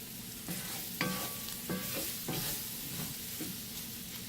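Flour roux cooking in a pan for creamy ranch chicken and rice: a soft, steady sizzle under repeated scraping stirs and a few light utensil clinks against the pan, close and moderate in volume.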